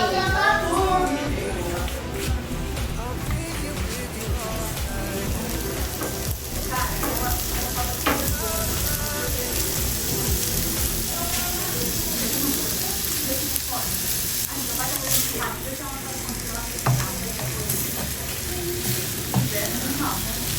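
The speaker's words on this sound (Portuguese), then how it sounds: "Ó, vou fritar aqui pra vocês verem como que fica." Hamburger patties fry in a pan with a loud, dense, continuous sizzle and crackle that stays steady throughout, close by. A few faint sounds of stirring or movement rise above it.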